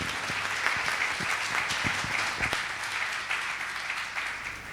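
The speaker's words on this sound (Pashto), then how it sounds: "هیله ده په چکچکو یې ونازوئ" An audience at an Afghan Pashto poetry night applauds a poet taking the stage: dense, steady clapping from a sizable crowd that carries on without a break, with no one speaking over it.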